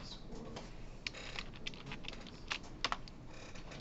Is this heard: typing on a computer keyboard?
yes